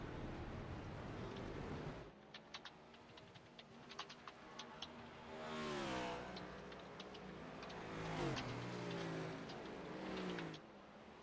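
Race cars at Watkins Glen cross the finish line one after another, engines swelling and fading as each passes, under a steady broad roar with occasional sharp ticks.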